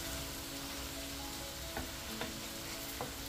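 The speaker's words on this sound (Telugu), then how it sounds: "బాగా దగ్గర పడాలి, బాగా ఫ్రై అవ్వాలి." Egusi soup fries in a pot with a steady low sizzle and crackle, stirred with a few soft utensil knocks, alone and close with no voices.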